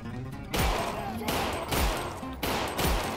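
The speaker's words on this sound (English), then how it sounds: "So let's just open it carefully and shoot people in the face." Four loud bursts of gunfire in the VR game Half-Life: Alyx with a Gunman mod, set in an office, each a sharp crack followed by a short echoing tail. The shots come spaced roughly evenly, close and punchy.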